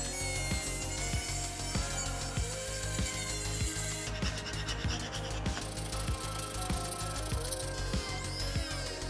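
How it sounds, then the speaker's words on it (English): A Dremel rotary tool cuts along the sides of a Bowie knife tang, making a steady high-pitched grinding whine with repeated rasping strokes and periodic low knocks. The sound is close and loud throughout, with no talk. "I'm also using a Dremel to get a more precise cut along the sides of the tang."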